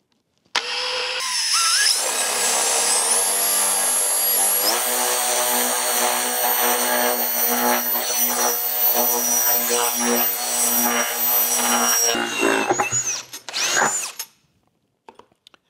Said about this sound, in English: And we're going to drill a hole.